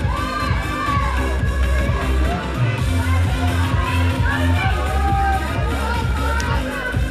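An audience at a bikini fitness championship cheering and whooping for competitors, a dense, loud crowd roar with shouted calls and whistles layered throughout.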